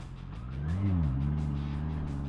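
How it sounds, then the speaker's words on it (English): A Honda motorcycle with E-Clutch idles at a stop in sixth gear, heard close as a low, steady engine rumble with a brief tonal swell partway through. "Clearly the bike is still running, but I'm in sixth gear."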